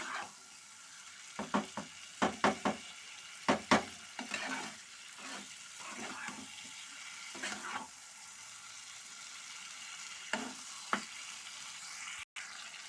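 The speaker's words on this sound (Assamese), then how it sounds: "তেল নোহোৱা পানী নোহোৱাকৈ এনেকৈ অলপ সময় ভাজিয়ে থাকিম" Meat dry-frying in a pan with no oil or water, stirred in bursts: repeated scraping, clattering strokes over a steady low sizzle, with quieter stretches between stirs and one sharp knock near the end.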